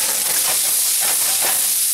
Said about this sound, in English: we're going to add the onion